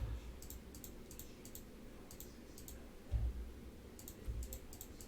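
Light computer mouse clicks while placing dots in Adobe Illustrator, quick single and double clicks in small clusters spread irregularly over a quiet room background, close and crisp.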